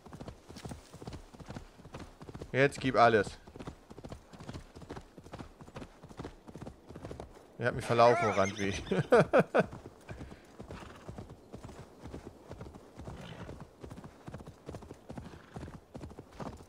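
Rhythmic hoofbeats of a galloping horse in the video game Assassin's Creed Valhalla clatter steadily throughout, with two louder bursts of noise and a person talking and laughing over them.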